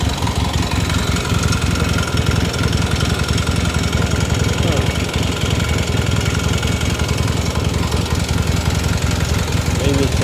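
A 1978 Yamaha XS650 motorcycle idling just after winter storage, running on both cylinders with a loud, steady, rattly knocking idle close to the microphone.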